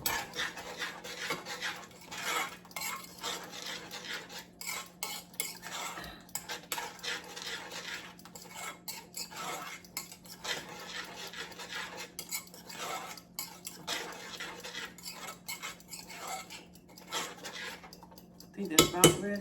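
Cutlery scrapes and clinks against a pot as a sauce is stirred in a home kitchen, a quiet, continuous rhythmic scraping that runs throughout with little pause.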